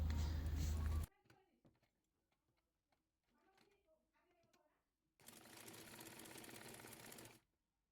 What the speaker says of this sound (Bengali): এবার একটি বউ বানানোর জন্য কাপড়টি সেলাই করে নিচ্ছি